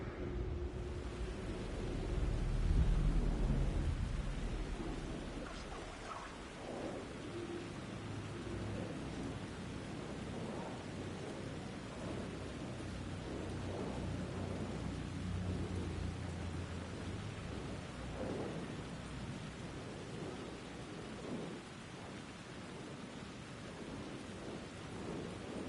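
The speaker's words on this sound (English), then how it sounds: "The rain never stopped falling." Steady rain pours with low rolling thunder rumbling beneath it in a stormy night scene from the video game Alan Wake 2, a dense continuous wash of sound with no voices.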